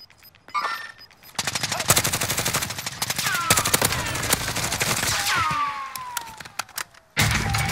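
Gunfire in a video game: a dense burst of rapid automatic shots, loud and close, with cracks and ringing tails and a final short burst after a brief gap, with no talking over it.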